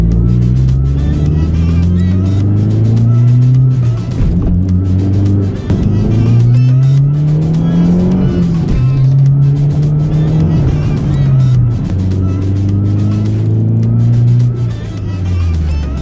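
A Mazdaspeed 3 hatchback drives hard and accelerates, its engine note rising and falling through gear changes in a loud, continuous run with brief dips between pulls.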